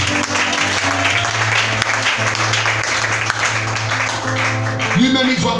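A church congregation claps and cheers to acclaim the Lord, a loud, dense, steady applause with voices calling out over a sustained background tone.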